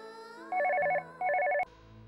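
A telephone rings twice in short trilling electronic bursts, clear and close in a quiet room, and the second ring is cut off sharply by a click.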